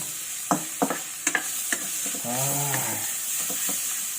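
Bacon being stir-fried in a pan for carbonara, a steady sizzle punctuated by several sharp scrapes and knocks of the spatula, close by, with a brief low hum in the middle.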